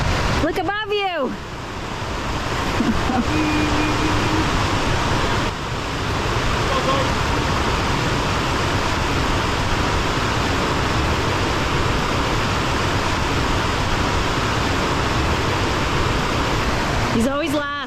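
Steady broadband roar of a waterfall beside a creek, loud and continuous throughout, with brief goat or human calls at the edges and bleats near the start and end.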